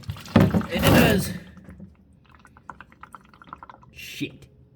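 Engine oil from a Subaru splashes and pours into a drain pan during an oil change, with an opening burst of sloshing, then a thinner trickling stream and a brief splash near the end.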